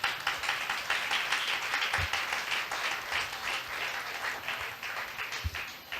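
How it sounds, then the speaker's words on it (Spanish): A church congregation claps in sustained applause, with many hands beating steadily and a few sharper individual claps standing out near the front. "Denle un aplauso a Dios por eso."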